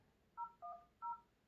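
Telephone keypad tones from a dual-SIM phone being dialed: three short, clean DTMF beeps, each paired-tone press crisp and evenly spaced, quiet and alone with no talk.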